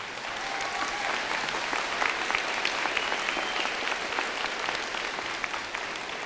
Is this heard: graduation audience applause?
yes